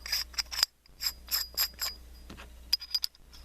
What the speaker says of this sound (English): take the side with 6 holes, thread it into the lower body